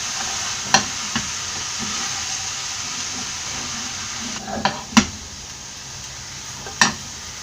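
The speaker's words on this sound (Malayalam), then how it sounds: "ഇനി ഇതെല്ലാം കൂടെ നന്നായിട്ടൊന്ന് മിക്സ് ചെയ്യാം" Cooked banana flower and cooked green gram for a Kerala thoran are stirred together in a pan over a steady soft sizzle, with a few sharp spoon knocks scattered through.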